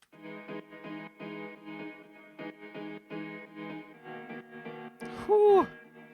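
A piano layer from Addictive Keys using the Miles Away preset, with effects, plays short repeated chords in a bouncy house rhythm. Near the end, a brief high swooping tone rises above the chords.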